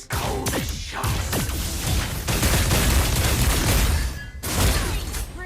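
Rapid gunfire from Granger, a gunner hero in the mobile game Mobile Legends, in loud, dense bursts of blasts and whooshing impacts packed together without pause, with a short gap before another burst.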